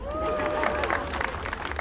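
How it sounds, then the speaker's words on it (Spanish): Audience applause and cheering fill a clown show, a steady crowd roar with clapping, while a voice carries over the top. "El aplauso para el gordo."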